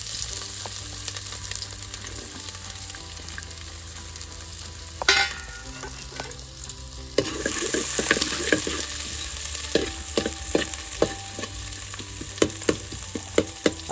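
A large amount of onion frying in a pan over a wood-fired village stove for spicy mutton curry, steady loud sizzling with stirring scrapes and clicks growing busier partway through.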